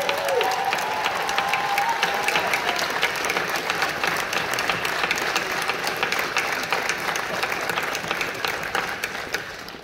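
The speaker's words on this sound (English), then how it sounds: "give these guys a round of applause" A festival audience at Sundance 2020 claps continuously and fairly loudly for the whole stretch, a dense, even applause with a faint voice at the start.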